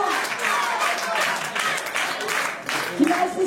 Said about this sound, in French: on peut encore une fois vous applaudir